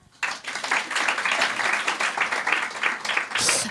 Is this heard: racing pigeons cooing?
no